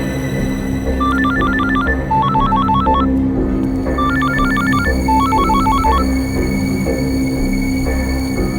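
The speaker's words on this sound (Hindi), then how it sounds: "फोन क्यों नहीं उठा रहा है?" A telephone rings on and off in repeated electronic trilling bursts, clear and fairly loud over a steady low hum, with no one picking up.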